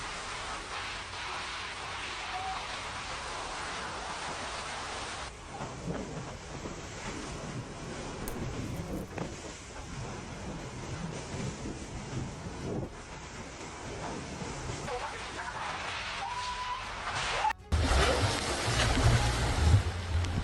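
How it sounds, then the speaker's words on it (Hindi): Cyclone winds and rain batter Barbados in a continuous roar of gusting wind and rushing noise. The sound grows louder and harsher in a sudden burst near the end, with no voices. "बारबाडोस में चक्रवाती तूफान का कहर, तेज हवाएं और बारिश ने मचाया कोहराम"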